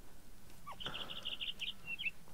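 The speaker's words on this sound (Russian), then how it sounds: "Вот птичка желтая, кстати, иди сюда." A small yellow bird in the Minecraft video game chirps a quick series of high, bright tweets that lasts about a second, followed by a couple of softer notes over faint background noise.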